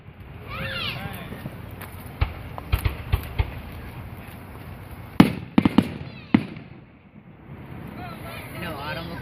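Fireworks at Hazelpark popping and crackling at a distance, a scattering of sharp bangs clustered in the middle, while people chat nearby over a steady background hum.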